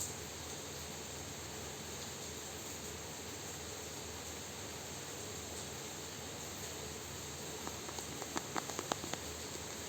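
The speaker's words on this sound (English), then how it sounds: "Rain is really, really strong." Heavy rain falling steadily as a dense, even hiss throughout, with a few faint tapping clicks near the end, moderately quiet and with no voices.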